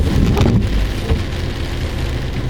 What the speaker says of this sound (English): Look at this rain, I tell you,